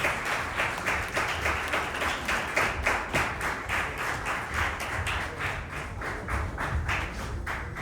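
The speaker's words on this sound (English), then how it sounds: "A round of applause for our guest." Scattered applause from a modest audience at an ISKCON youth festival, steady claps of moderate loudness carrying on for several seconds without a pause.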